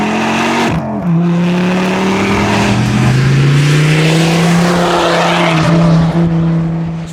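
A Ford Focus ST engine drones loudly and close, its exhaust note rising and falling in pitch as the revs climb and settle, with a brief voice at the end.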